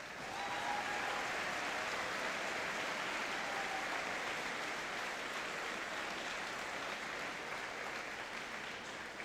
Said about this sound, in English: let's give one big more round of applause for our service members, veterans, and Honor Wall inductees